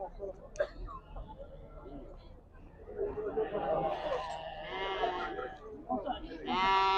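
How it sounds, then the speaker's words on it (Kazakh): Four-month-old Karakul lambs at the Karabulak livestock market bleat several times, some high and close, amid steady chatter from traders nearby. "Төрт айлық қозылар Қаракөл дейді"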